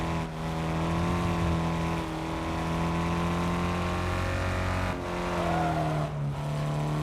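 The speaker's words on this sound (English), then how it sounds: "Car sounds pretty rough to me." Video game car engine idling rough in second gear, a steady low droning hum with strong harmonics, loud and continuous with brief dips, no talking.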